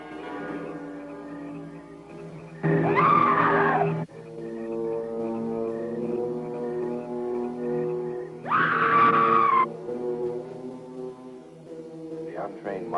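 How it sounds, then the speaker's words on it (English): A ghostly woman's scream from Ed Wood's 1959 horror film Night of the Ghouls rings out twice, each a loud wailing cry lasting about a second, over a sustained eerie droning tone. "To the untrained mind, it is the scream of the white ghost."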